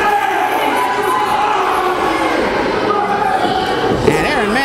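Crowd noise at a hometown sports event, a dense, steady roar of cheering and shouting that fills the whole stretch at a loud, even level, with an announcer's voice running over it.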